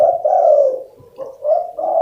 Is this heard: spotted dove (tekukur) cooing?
yes